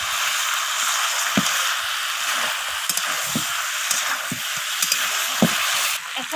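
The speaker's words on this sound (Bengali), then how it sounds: "এখন আমি দিয়ে দেবো এখানে ভেজে রাখা আলুগুলো। আলুগুলোকে দিয়ে আবারও কষিয়ে নিচ্ছি।" Fried potatoes sautéed with chicken curry in a pan, giving a steady broad sizzle with occasional soft knocks and scrapes of stirring, close and without talk.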